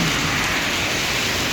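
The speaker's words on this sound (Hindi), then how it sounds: "बहुत तेज़ बारिश शुरू हो गई है" Heavy monsoon rain pours down at a roadside petrol pump in Himachal. It makes a dense, steady hiss and patter that fills the whole moment at high volume, with no speech.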